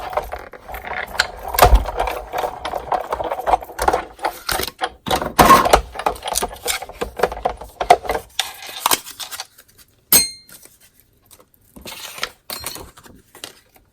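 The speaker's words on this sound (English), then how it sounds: "So what I'm going to do now is get the Big Shot, and we'll cut those 3 pieces out." Big Shot die-cutting machine with magnetic platform and cutting pad processing paper pieces for a Farmhouse Christmas stamp kit, heard as a series of close plastic clicks, clacks and handling knocks, busy at first and then sparser with quiet gaps.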